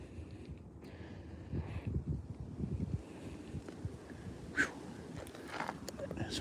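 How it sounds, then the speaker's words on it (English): Strong wind gusting across a lake dock during cold 27-degree fishing, a steady rushing roar buffeting the microphone, with water and shaking trees in the background and someone talking over it. "you literally go out here on this dock and the wind is killer"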